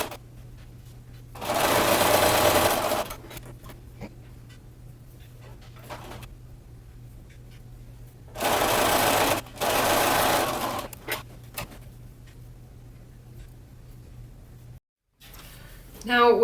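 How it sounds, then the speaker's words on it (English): A sewing machine stitching over the seams of a swimsuit cover-up, in two loud bursts of rapid whirring separated by quieter pauses, with a speaker talking between and over them and a brief burst at the very end. "And I'm going to sew over those seams."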